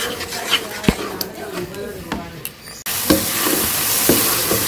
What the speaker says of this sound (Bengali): এখন মশলাটা আমি ভালো করে কষিয়ে নিই